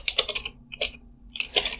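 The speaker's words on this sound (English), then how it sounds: "So let me just type here" Someone types on a computer keyboard, producing quick clusters of close, crisp key clicks with a short pause in the middle.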